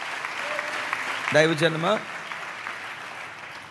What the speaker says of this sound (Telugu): చప్పట్లు కొడుతూ యేసయ్యకు స్తోత్రాలు చెప్తా.